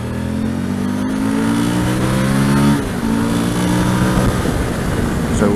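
A car accelerates hard to overtake on a country road, its engine note climbing steadily in pitch, easing briefly, then building again, loud and close from inside.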